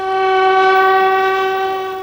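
A train carrying a mobile hospital in India sounds a loud, sustained horn, one steady tonal blast lasting the whole stretch with no other sounds.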